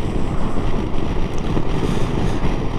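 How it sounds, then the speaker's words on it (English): Heavy wind buffeting roars against the rider's helmet and screen on a moving Honda CB500X motorcycle, a loud, constant low rumble that fluctuates slightly. "I've got a bit of buffeting going on there"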